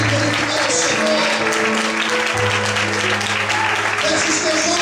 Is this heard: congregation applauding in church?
yes